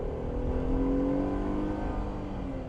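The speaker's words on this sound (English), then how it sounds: "So, all right, Pentastar V6 Jeep Gladiator. Let's give it some beams. Full throttle." A Jeep Gladiator Willys pickup with a Pentastar V6 engine revs at full throttle, giving a steady, loud, droning engine roar with rising harmonic whine, heard up close with no talking.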